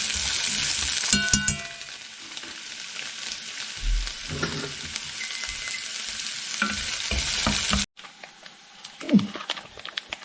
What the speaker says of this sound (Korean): 기름을 치고 양파를 먼저 볶아 봅시다